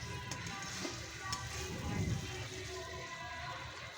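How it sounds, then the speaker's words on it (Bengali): Spice paste and potatoes for a lote fish curry fry in a pan, a soft steady sizzle with faint bubbling and a brief louder stir partway through, quiet and close with no talking. "দিয়ে আমি ভালো করে একটুখানি কষাচ্ছি, বেশ কিছুক্ষণ ধরে কষাচ্ছি আমি"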